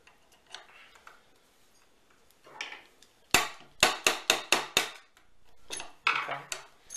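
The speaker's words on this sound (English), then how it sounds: "we got to kind of hold the bolt closed and tap that pin back out" A small hammer taps a pin out of a Rossi R92 lever-action rifle, a Winchester 92 clone, with the bolt held closed: a quick run of sharp metallic taps, then a few more, close up after softer handling sounds.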